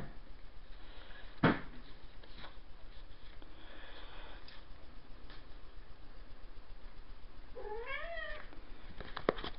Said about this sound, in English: Yeah, meow.